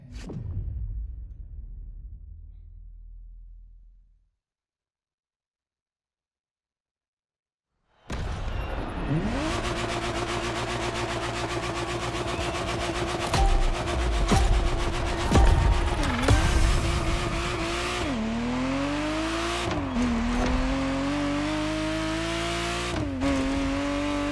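A Ferrari Testarossa's engine in the racing video game The Crew Motorfest, heard after a short silence as a continuous loud drone with rising revs, several gear-change dips and brief tire or wind whooshes.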